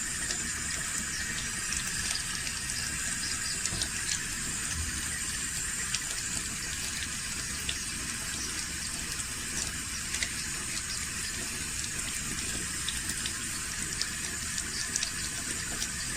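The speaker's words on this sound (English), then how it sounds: "I'm going to run this cold water on. You can see the cold water is running nicely." Cold water runs steadily from an indoor tap, a constant close hiss and splash with no pauses.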